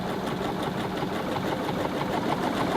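A sewing machine stitches a trial buttonhole on a men's shirt, giving a steady, fairly faint continuous mechanical whir with no pauses or voices.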